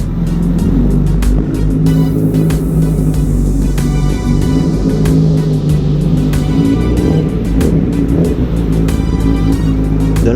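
A Honda CBR1000RR sport motorcycle engine roars steadily and close by, a deep rumbling drone with constant throttle for the whole stretch, no voices.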